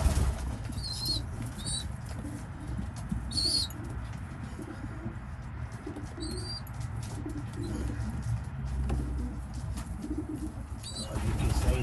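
Young racing pigeons at weaning time coo softly while a few chirps and bursts of wing flapping break through, set over a low, continuous background rumble in a loft.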